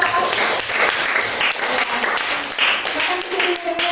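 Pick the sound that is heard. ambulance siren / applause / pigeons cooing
applause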